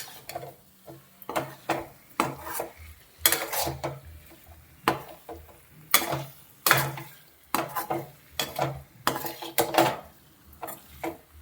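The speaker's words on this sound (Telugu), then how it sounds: "గుడ్లని ఇలా కాటు పడకుండా ఇట్లా చిన్నగా తిప్పుకుంటా మసాల్లో ఒక నిమిషం బాగా వేయించుకోండి" Eggs being turned gently in masala for egg masala curry, with a spoon or spatula knocking repeatedly against the pot in uneven clanks and scrapes, close and fairly loud, over a faint background sizzle.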